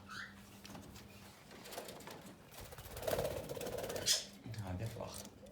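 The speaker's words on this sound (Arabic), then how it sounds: "افراخ طيور ما شاء الله" Cockatiel and lovebird chicks chirp and peep in an aviary, fairly faint, mixed with someone talking nearby.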